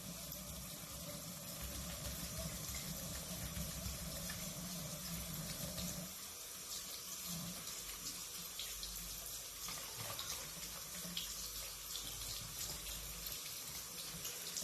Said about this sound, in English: That's why it's so important to wash our brushes.